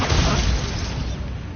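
A loud, booming blast from the Bombarda spell in the video game Hogwarts Legacy, erupting at once and rumbling on as a dense, roaring explosion that slowly fades over about a second and a half.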